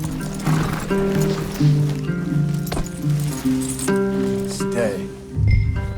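Horses in the Red Dead Redemption 2 video game, with hoof clip-clops, snorts and a brief whinny under steady music and game ambience; voices talk over it throughout.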